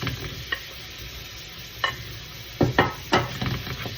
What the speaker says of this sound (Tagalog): Lagay ko na po yung chicken.